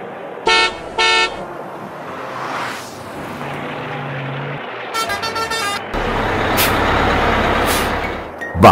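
A toy taxi's horn honks in two short bursts near the start, then a further quick series of toots later. The honks are loud and close, with whirring vehicle noise and engine-like rumble in between and no talking.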